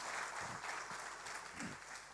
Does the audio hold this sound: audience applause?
yes